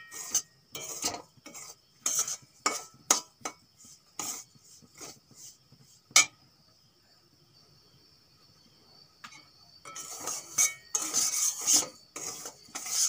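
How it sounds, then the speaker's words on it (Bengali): Semolina stirred and fried in ghee for a sweet, heard as repeated scraping and rubbing strokes of a spoon against a pan, pausing midway and then resuming briskly, with no voices. "সুজিগুলো আমি ভালো করে ভেজে নেব ঘি দিয়ে।"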